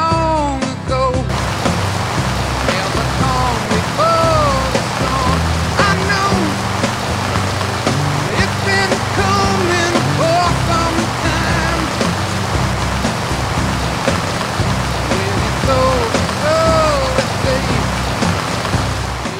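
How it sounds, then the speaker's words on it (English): Heavy rain pours steadily at a 2007 off-road event in Terengganu, a dense, constant hiss of drops drumming on surfaces throughout, with voices talking over it. "Have you ever seen the rain pouring like this?"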